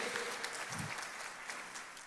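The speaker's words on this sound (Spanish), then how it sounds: "Un aplauso para ustedes" Audience applause at a motivational talk on kindness, a steady broadband patter of many hands clapping for about two seconds, moderately distant and fairly even, with no speech over it.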